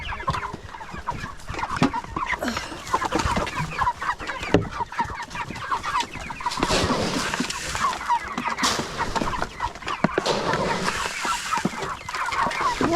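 A dense crowd of chickens clucks and squawks continuously at close range during a November evening feeding, with constant overlapping calls and scuffling.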